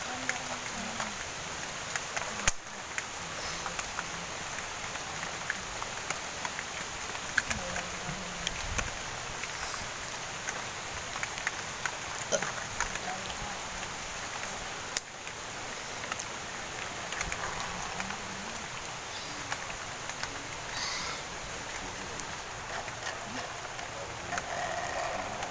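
Steady rain patters down outdoors at a sports complex, a broad continuous hiss with no clear speech above it.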